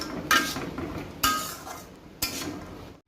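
Chickpea curry spooned from a pan into a bowl, with three distinct metallic scrapes and clinks of a utensil against cookware spaced about a second apart, close and fairly clear.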